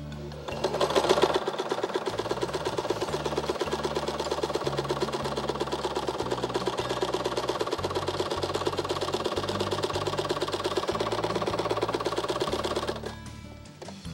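Sewing machine stitching fabric, a rapid, even mechanical chatter running steadily for about twelve seconds close up, with short pauses and shifts in the low hum, then stopping.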